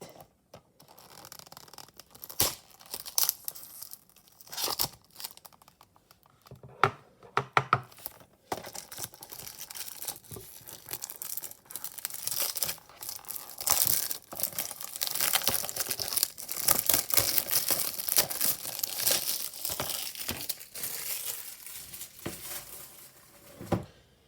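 Plastic wrap is peeled and torn off a DVD case, a close series of crinkling, crackling and scratchy tearing sounds that grow busier and denser toward the end.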